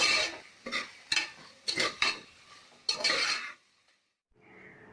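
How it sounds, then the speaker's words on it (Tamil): Onions sautéing with salt in a pan for a coconut milk rice dish, heard as a series of sharp scraping stirs that come in bursts. A pause follows, then a softer, faint sizzle. "வெங்காயம் பாதி அளவு வதங்கி இருக்கு"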